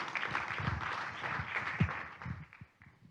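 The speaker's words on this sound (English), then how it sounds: "Can I have a great round of applause for Diane to welcome her?" Applause from a symposium session audience, a steady wash of many hands clapping that fades toward the end.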